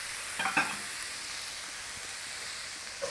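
Keema beef with tomatoes and chili fries in a pan, a soft, fairly faint sizzle holding steady, with a brief stirring scrape near the start and another at the end.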